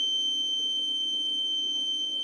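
A military robot's metal detector gives a steady, continuous high-pitched electronic tone that holds unchanged from start to end. No one talks over it.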